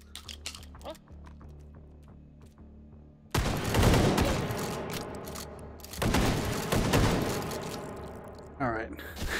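Shotgun blasts go off in the VR shooter Hot Dogs, Horseshoes & Hand Grenades, loud booming bursts in two clusters after quieter clicks and handling noises, with gun mechanisms racking near the end.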